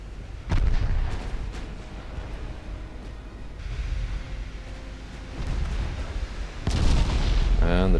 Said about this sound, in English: And we scored 2 more torpedo hits though.